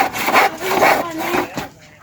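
Hand sawing of expensive timber by a craftsman, a close rhythmic rasp of the blade with a few strokes back and forth before it trails off.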